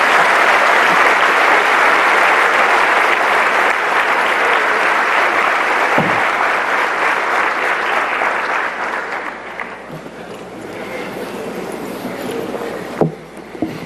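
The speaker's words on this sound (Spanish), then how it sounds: "Pido un aplauso para esa página, es extraordinaria." A large audience claps at a solidarity event, with dense, loud and sustained applause that eases off after about nine seconds into a softer, patchier clapping with a few sharp claps.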